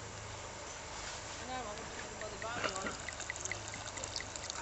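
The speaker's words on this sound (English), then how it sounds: "Pour some in, lad." Appleton Estate Jamaican rum poured from an opened bottle into a lemon ration-pack drink outdoors at a rainy muddy festival, a soft liquid gurgle and trickle under steady background noise and nearby voices.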